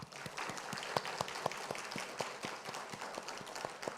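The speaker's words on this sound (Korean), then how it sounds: "우리 축복의 박수 하겠습니다" Church congregation applauding in blessing at a Thanksgiving Sunday service, crisp individual claps from a modest group ringing out in a loose, scattered rhythm, fairly quiet and roomy.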